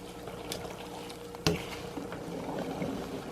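Animal fat rendering into tallow bubbles in a low, steady boil close by, with soft liquid gurgling and one brief knock partway through.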